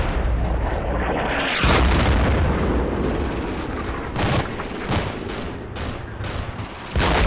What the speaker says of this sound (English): Got a grenade, throw it over there.